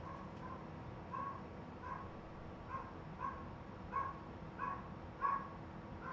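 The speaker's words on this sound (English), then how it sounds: "Dog's barking." A dog barks several times in the background of an indoor live broadcast, each bark faint and distant, spaced roughly evenly over a steady low hum with no talk.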